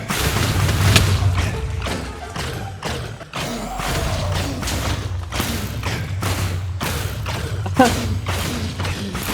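Explosions in Minecraft, a series of heavy thuds and booming blasts with rattling debris, loud and close, coming in irregular bursts one after another.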